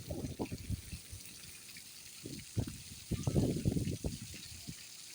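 Water splashes and sprays in uneven bursts at a children's splash park, close by and moderately loud, with short gaps between gushes.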